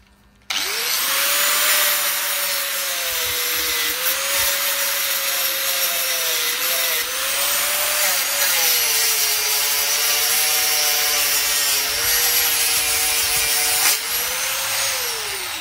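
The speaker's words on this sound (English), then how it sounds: "Sand that off." A power sander working on a wooden gate outdoors, a loud continuous whirring drone that starts abruptly and holds steady with slight pitch shifts, close and uninterrupted by voices.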